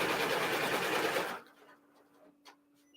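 A sewing machine whirs in a fast, even run for just over a second, then stops, leaving a quiet room with a faint hum and a small click.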